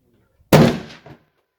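A single sharp, loud rifle shot from a handloaded 300 Weatherby cartridge at an outdoor shooting range, with a short decaying tail and a faint secondary thump just after.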